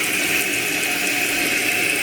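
Steady close-up ratcheting whir of a toilet float's screw adjuster being turned, a continuous mechanical buzz with no pauses, alone with no talk.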